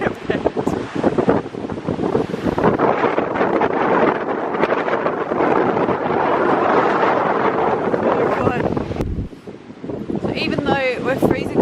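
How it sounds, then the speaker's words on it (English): Strong wind roars across a beach, buffeting the microphone with a constant loud rush and surf mixed in; a person talks through it. "I've got no idea if you can hear me because the wind is raging"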